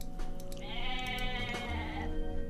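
Goats bleating in the real-time strategy game Age of Mythology, a single wavering, drawn-out bleat heard clearly over a steady low game background hum.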